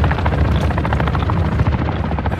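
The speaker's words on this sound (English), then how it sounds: "There's a helicopter." Helicopter rotors chop loudly and steadily in a combat video game, a dense close thumping wash that fills the whole moment with no talk over it.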